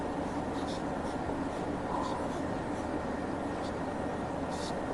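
Pen scratching on paper while working through a maths proof, continuous close scribbling strokes over a quiet room hum.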